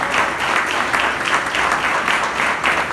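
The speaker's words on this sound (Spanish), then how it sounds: "Dale un aplauso al Señor." Congregation applauding during a Spanish-language church service, a steady wash of many hands clapping at even loudness throughout with no pauses.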